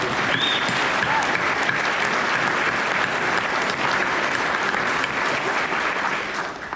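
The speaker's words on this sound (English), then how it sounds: "let's give her a round of applause" Sustained, loud applause from an audience at a fire chief's retirement event, dense and steady for several seconds before tapering slightly at the end.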